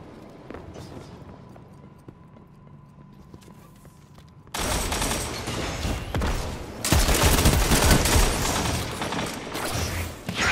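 Gunfire in a video game: sustained volleys of shots that start abruptly partway through and grow denser and louder toward the end, following a quieter stretch of game ambience with a steady tone.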